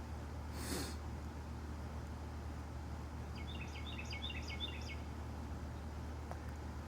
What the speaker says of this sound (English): There goes these birds.